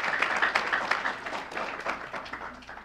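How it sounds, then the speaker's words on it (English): A crowd at a scholarship event gives a round of applause, a continuous rattling of many hands at fairly close range with no talk over it. "So would you give her, please, a round of applause?"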